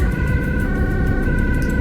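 Ambulance siren in Amsterdam rush-hour traffic, a loud steady wailing tone with a sustained pitch over the rush of traffic, close and uninterrupted.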